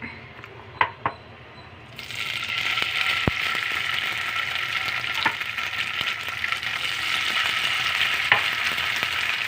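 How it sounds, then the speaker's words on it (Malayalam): Paneer fries in a little oil, a sharp sizzle bursting in after a quiet start and then crackling steadily up close, with occasional knocks of stirring. "ഇങ്ങനെ വറുത്ത് ഉണ്ടാക്കുന്ന നല്ല ടേസ്റ്റായി പനീർ"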